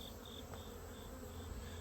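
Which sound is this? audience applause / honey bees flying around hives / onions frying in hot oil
honey bees flying around hives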